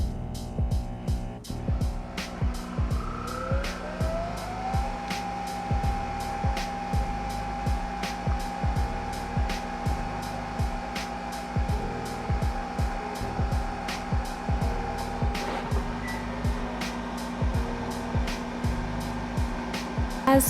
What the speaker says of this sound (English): we're going to make some espresso using my Nespresso machine